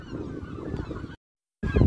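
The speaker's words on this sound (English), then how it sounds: "there are so many seagulls" Seagulls call at the coast near Cullen and Bow Fiddle Rock, giving harsh, honking cries over wind and surf noise that cut out briefly, then return loudly.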